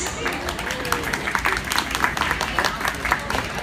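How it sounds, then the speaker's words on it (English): Audience applauding at a tea-themed show during the San Diego County Fair, a steady wash of clapping hands lasting several seconds at moderate loudness, with some voices mixed in. "A round of applause for the Dormouse and her assistant."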